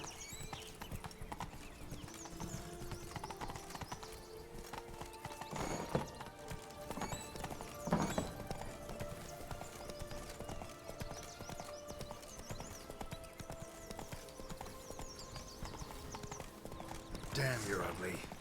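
Horse hooves clip-clopping at a steady walking rhythm in The Witcher 3, joined by a brief whinny, with game music and voices in the background.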